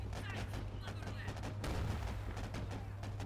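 Artillery and machine-gun fire rattle through a 4v4 War Alert strategy battle as a dense, continuous crackle of shots over a low steady hum, sustained throughout.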